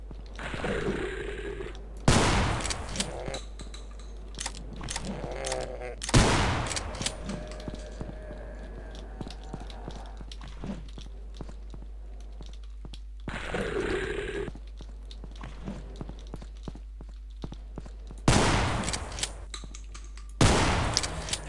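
Shotgun blasts in Afraid of Monsters, a Half-Life mod, as several loud, widely spaced booming shots over a low hum with quieter clicks and clatter between them.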